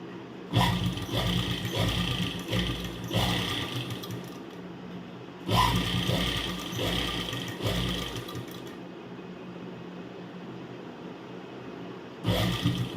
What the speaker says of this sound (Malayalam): അതിന് ശേഷം നമുക്ക് ഇതിനെ സ്ട്രെയിറ്റ് ആയിട്ട് ഇങ്ങനെ വെച്ച ശേഷം ഇനി നേരെ തയ്ക്കുക